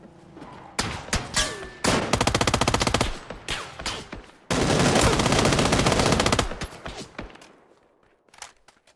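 Automatic weapon fire in the battle royale game PUBG, with long sustained bursts and shorter rapid volleys that are loud and close, broken by brief pauses and a few scattered single shots near the end.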